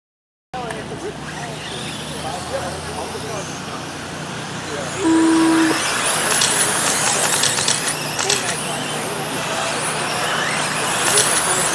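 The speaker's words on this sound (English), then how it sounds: "we're underway with the sprint car A main" Sprint cars in an A main race at Checkered Flag Raceway, a continuous roar of engines that swells louder partway through, with a commentator talking over it.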